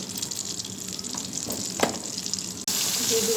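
Potatoes fry in a pan with a soft, steady sizzle close by, briefly joined by a sharper crackle, before the sound abruptly turns to a louder hiss near the end.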